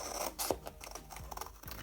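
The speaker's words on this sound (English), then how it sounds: "I'm just going to use my scissors." Scissors cutting out a paper box envelope template, producing close, faint snips and scratchy paper scraping in a few quick strokes, with no talking.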